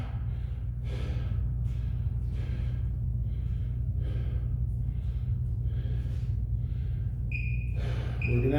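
Rhythmic heavy breaths and gasping exhales during a stick high-intensity interval workout, about a dozen forceful breaths close up over a constant low hum, ending with a brief sharp squeak.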